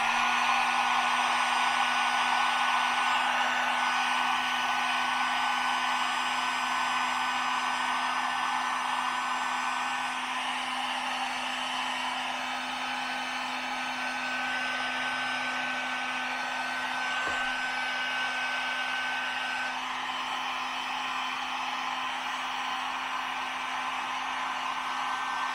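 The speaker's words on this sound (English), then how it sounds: "I also happen to grab my plug-in heat gun" A plug-in electric heat gun runs steadily and loud close by while work is done on a Duramax truck, its even whooshing blower roar holding with a constant motor hum throughout, no talking over it.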